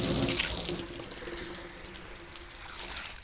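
Water flooding over freshly waxed black car paint, a continuous close rushing splash that starts strongest and then settles into a steady hiss of running water.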